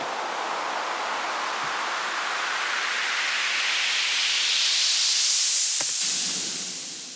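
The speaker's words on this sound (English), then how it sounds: "So that's a basic white noise rise there" A white noise riser swells steadily brighter and louder over several seconds, peaking near the end before a brief soft tail, with no voices.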